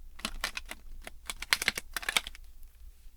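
A deck of playing cards being shuffled by hand, giving a quick run of crisp riffling flutters and slaps in bursts over a few seconds, close and fairly quiet.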